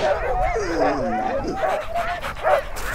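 Excited sled dogs yip, whine and bark in a busy overlapping chorus close by, before a ski tour in Norway, with a steady outdoor rumble underneath.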